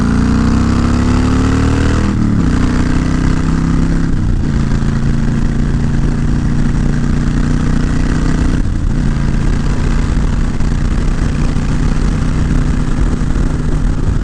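A Honda Fury motorcycle engine revs briefly as the throttle is twisted, then settles into a steady, loud, close rumble that runs throughout without any talking.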